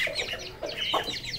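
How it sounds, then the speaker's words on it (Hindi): A rooster and smaller hens cluck and call together at feeding time, with several close, overlapping bursts of clucking in a short stretch, and no talking. "ये बाकियों को भी साथ बुला रहा है खाने के लिए, छोटी वाली मुर्गियों को।"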